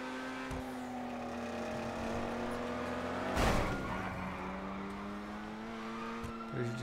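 Car engine in a driving video game, a steady droning engine tone that rises in pitch as it revs, with a sharp loud burst midway that sounds like a crash or hard impact, and faint talk underneath.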